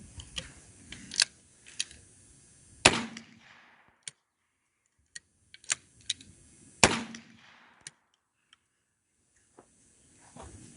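20 gauge shotgun firing Fiocchi shells at an outdoor range: two sharp, loud reports several seconds apart, each with a short decay, among lighter clicks and handling noises.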